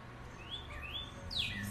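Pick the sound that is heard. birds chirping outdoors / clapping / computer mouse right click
birds chirping outdoors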